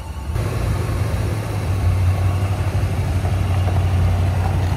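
Steady engine rumble from an old Chevrolet K10 pickup truck on its first drive since 2009, a continuous low drone heard close up with no talking.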